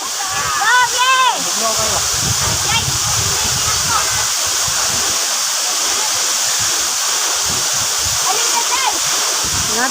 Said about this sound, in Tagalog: Ang falls guys, naabot na gid namo